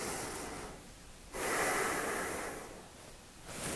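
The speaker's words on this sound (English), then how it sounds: "take a few deep breaths" Slow, deep diaphragmatic breathing: one long airy inhale swelling in after a quiet pause, then easing off, close and breathy with no talking.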